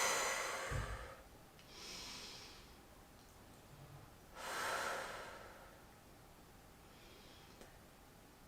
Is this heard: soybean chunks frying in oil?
no